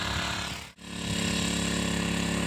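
Powerful tractor-mounted rotavator cutting through farm soil, a loud continuous mechanical clatter with engine drone that dips briefly for a moment before resuming at full strength, with rain falling.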